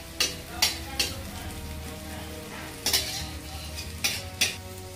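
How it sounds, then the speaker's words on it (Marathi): Poha pieces frying in a little oil in a pan, a steady soft sizzle broken by several sharp scraping stirs of a spoon, close and fairly quiet with no talking. "तुकडे असे मस्त बघा थोड्या तेलामध्ये पण असे मस्त तळून निघतात बघा तुकडे"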